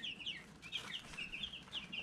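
Chickens clucking in a farm setting, a steady run of short repeated clucks and chirpy calls close to the microphone, fairly soft with no talk over them.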